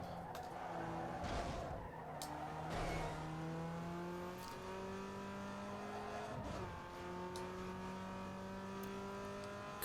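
A Peugeot 106 in a racing video game revs hard through its gears, engine pitch climbing and dropping repeatedly with shifts, with brief tire squeals, loud and continuous with no talk.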